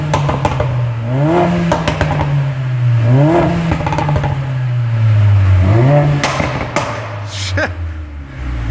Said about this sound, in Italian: Ascoltiamo un po' il rumore di questa macchina